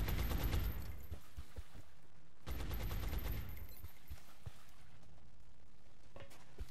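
Two bursts of rapid suppressive machine-gun fire from a gunner in a video game, dense rattling volleys with short gaps and scattered single shots after, loud and with no talking.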